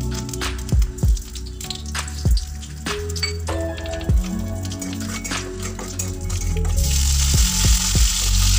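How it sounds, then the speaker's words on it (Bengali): Whole cumin, a dried red chilli and mustard seeds spluttering in hot oil for a small-fish curry tempering, with sharp crackles and pops over a background sizzle, close by, growing into a denser hiss toward the end. "ফোড়নে দিচ্ছি গোটা জিরে ও একটা শুকনো লঙ্কা, একটু নাড়াচাড়া করে নেব।"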